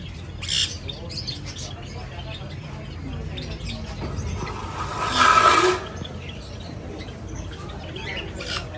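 A breeder male African grey parrot lets out a loud, harsh squawk midway, with softer chirps and faint squeaks before it, amid a noisy room and some background talk.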